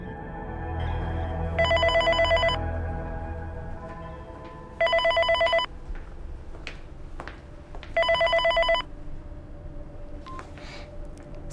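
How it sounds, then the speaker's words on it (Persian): A telephone rings in three separate bursts of trilling electronic tone, evenly spaced with quiet gaps between them. "دکتر تلفن زد."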